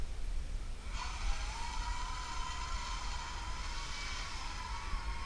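Star Wars Millennium Falcon quadcopter drone taking off, small rotors spinning up from a hush into a steady high-pitched whine that holds close and fairly loud, no talking.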